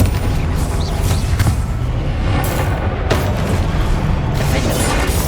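Confringo spell cast in Hogwarts Legacy: dense, booming blasts and crackling impacts rolling continuously amid busy combat noise, with sharp explosive hits standing out over a loud, steady rumble.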